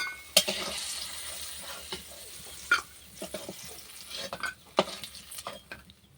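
Bori lentil dumplings frying in oil in a kadai give a soft, steady sizzle, broken by occasional scrapes and clinks of a spoon stirring against the pan, close by and moderately quiet with no talking.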